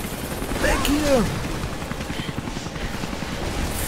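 A helicopter in the video game Rise of the Tomb Raider gives off a continuous close rotor roar, with a few short sweeping tones near the start.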